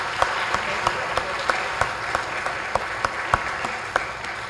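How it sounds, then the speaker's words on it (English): Congregation at a church service claps in a slow, even rhythm, with distinct single claps spaced about a third of a second apart over a soft, steady background hum. "A round of applause, please."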